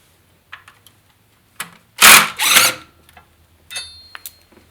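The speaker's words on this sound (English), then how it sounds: "we'll just take off this bracket on top of the alternator, and it's just four 10 millimeter bolts" Ratchet and socket work on the 10 mm bolts of an alternator bracket on a Ford 4.6L V8, heard as scattered metallic clicks and two close bursts of ratcheting, then a few lighter taps and rattles, with no talk.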